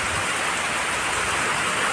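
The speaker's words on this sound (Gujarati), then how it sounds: "હવે વરસાદ પડે ફૂલ" Heavy rain pours steadily outside a window, a dense, continuous hiss close by with no talk.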